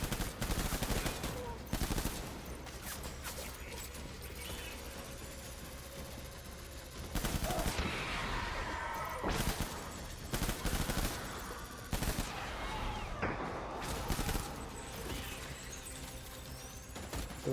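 Gunfire in Death Stranding Director's Cut comes as bursts of automatic shots and single cracks, loud and close, spread across the stretch with rapid rattling volleys and short pauses between them.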